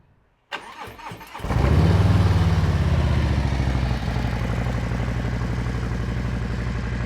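Harley-Davidson Low Rider ST motorcycle engine, sitting unused for 125 days, catches after a brief crank and settles into a loud, steady, throbbing idle right up close.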